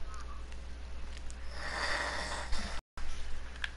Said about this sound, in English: You hear my dad snoring?